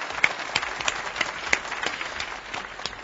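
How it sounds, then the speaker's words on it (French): A studio audience gives Roby a round of applause, a moderate, slightly thin patter of clapping with a few sharper claps standing out, heard somewhat muffled and at modest volume. "On l'applaudit bien fort, Roby"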